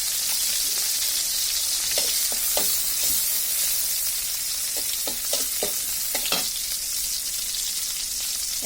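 Chopped onion frying in a pan for a kochur chora dish, a steady close sizzle throughout with intermittent scraping and stirring taps from a utensil.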